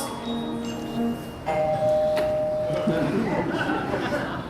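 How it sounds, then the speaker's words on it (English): A bell at a gate rings out with clear sustained tones, struck a couple of times and ringing on while voices talk over it. "Who rang that bell?"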